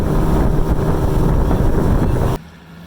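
A continuous low rumble of a boat motor mixed with wind buffeting the microphone, cutting off abruptly near the end.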